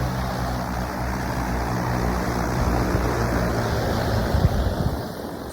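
A large agricultural seed-sowing drone comes in to land, its rotors producing a steady, loud whooshing drone and rotor wash that swells slightly as it nears, close by, with no speech.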